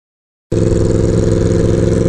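After half a second of silence, a loud motorcycle exhaust pipe at the 2022 Sturgis rally starts a loud, steady, throaty idle that rumbles on without a break.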